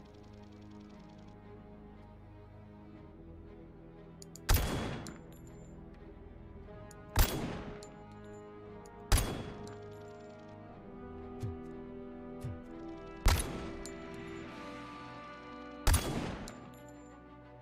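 Sniper rifle fire in the video game RoboCop: Rogue City, six sharp, loud single shots spaced a few seconds apart over low game ambience, with a brief spoken remark between them.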